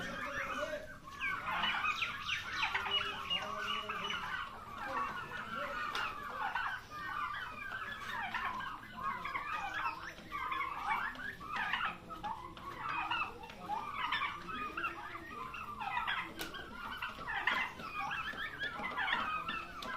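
A flock of turkeys and chickens at a turkey farm beside Sona Masjid keeps up continuous clucking, gobbling and chattering. The overlapping calls are close and steady throughout.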